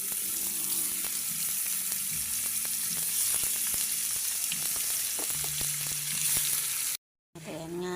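Squid added to a hot pan for adobo sizzles with a steady frying hiss, broken by light stirring clicks and scrapes, close by and unaccompanied; it drops out briefly near the end, then a short splashy burst follows.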